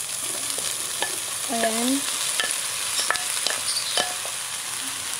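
Tofu fries in a hot pan with a constant near sizzle, irregular utensil taps and stirring scrapes, and a brief spoken word partway through.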